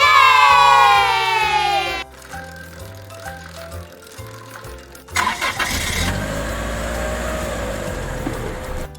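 A cartoon bus engine starts up and revs with a rising mechanical rumble after a short pause following a jingling musical passage.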